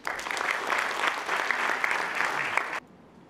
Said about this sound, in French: Monsieur Jean-Claude Nelson, sous vos applaudissements, s'il vous plaît.